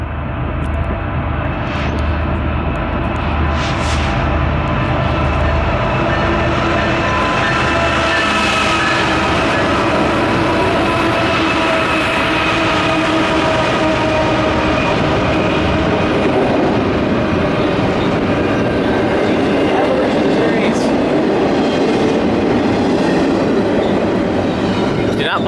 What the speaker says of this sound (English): It's an intermodal train, powered by a GEVO.